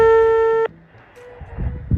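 A phone call rings out unanswered: a steady electronic call tone sounds close for under a second, then cuts off, leaving faint rustling and handling noise.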